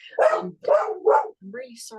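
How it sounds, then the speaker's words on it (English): A dog barks several times in quick succession, close and loud, while a person speaks over it. "that's my dog."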